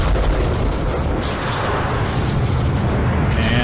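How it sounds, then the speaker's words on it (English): Rocket liftoff in the game Kerbal Space Program at full thrust: a loud, dense, continuous roar of broadband rumble that fills the whole stretch without pause. "And we have liftoff."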